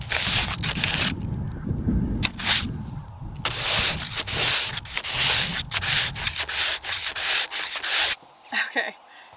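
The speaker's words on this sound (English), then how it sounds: "Sanding just like changes the color of the wood." Repeated bursts of sanding on wood, a rough rasping rub in uneven strokes with short pauses between them, close up.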